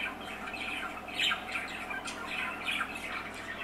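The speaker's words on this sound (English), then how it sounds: "Parakeet Chirping videos on YouTube." A parakeet chirps and squawks through a steady stream of bright, repeated calls, played back from a video and heard at a moderate distance over a constant low room hum.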